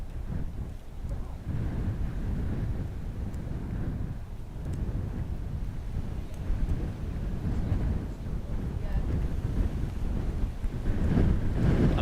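Gusty wind buffeting a camera microphone at Dublin Airport during plane spotting, a steady low rumbling roar that swells and dips throughout with no voices.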